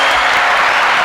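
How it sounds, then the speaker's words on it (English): Brief loud burst of crowd applause, dense and continuous throughout the second. "Give a round of applause."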